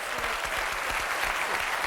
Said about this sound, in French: Et on perd Béatrice, qu'on applaudit quand même très, très fort.